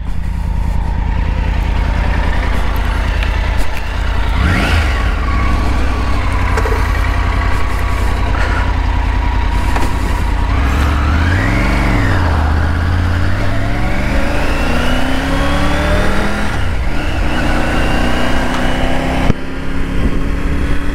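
Triumph Tiger 900 GT Pro 2022, an 888 cc three-cylinder motorcycle, ridden on the road: loud, continuous engine drone with wind rush, rising and falling through several revs and gear changes, close throughout.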